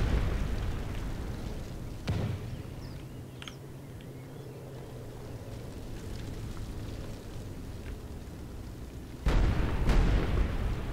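Siege fire explosions in the Call of Warhammer game, with a deep boom early on and another heavy blast near the end over a steady rumbling battle din, all heard from some distance.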